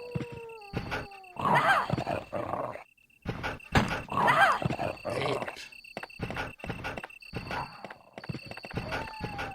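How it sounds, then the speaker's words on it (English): Attacking dogs in Resident Evil on Sega Saturn snarl, bark and growl in repeated aggressive bursts over game music and effects, loud and close. "those dogs are still going to jump me again, aren't they?"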